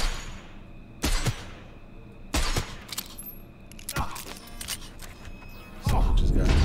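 A hand cannon in Cyberpunk 2077 fires heavy, booming single shots spaced a second or more apart, each with a sharp crack and ringing tail, ending in a louder sustained blast.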